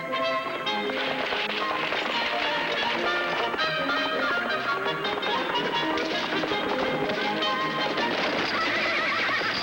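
A horse neighs over a dense, continuous soundtrack of music and activity that also carries clip-clopping hooves, with everything mixed loudly and nothing standing clearly on its own.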